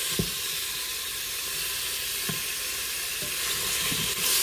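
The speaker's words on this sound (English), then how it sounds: "we just want to saute the chicken for a few minutes until it starts to turn kind of whitish pink in color" Chicken sautéing in an Instant Pot gives off a steady close sizzle and hiss, with a few soft stirring knocks scattered throughout and no talking.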